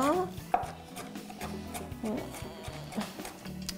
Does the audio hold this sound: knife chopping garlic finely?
yes